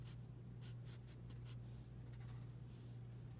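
Pencil drawing tree branches on paper, a soft continuous scratching close up with short stroke bursts over a low steady hum.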